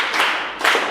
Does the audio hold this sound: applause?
yes